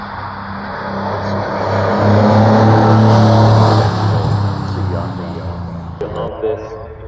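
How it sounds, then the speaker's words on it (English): Race cars driving at speed on a track give off a loud, droning engine whine that swells and rises in pitch, then fades slightly as they pass. A voice talks over it. "you still get to see the cars stretch their legs just a little bit, just to get a sense"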